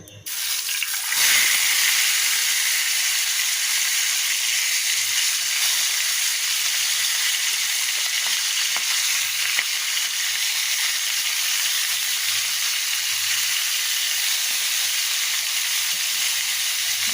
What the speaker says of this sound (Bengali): মাছগুলো আমি যে কেটে ধুয়ে হলুদ লবণ মাখিয়ে নিয়েছি ফ্রাই করে নেব